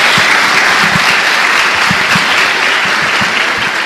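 A church congregation gives a loud, dense round of applause to the Lord, many hands clapping continuously and close, filling the room without pause.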